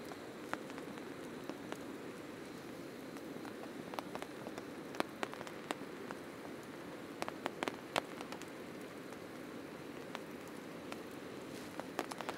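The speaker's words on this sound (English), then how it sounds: "I definitely have drips of rain tracking back under the tarp" Steady rain patters on a tent tarp at a snowy camp, a soft continuous hiss with scattered louder drips striking the fabric, close and quiet, with no voices.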